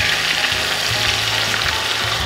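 Lemon juice hits hot brown butter in a pan and sets off a dense, loud, continuous sizzle and crackle. Soft low knocks of stirring run through it, with no talk.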